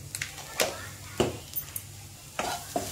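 Spice masala sautés on low heat in a pan for carrot and green chilli pickle, a soft frying hiss broken by several separate scraping strokes of a spoon over a low background hum.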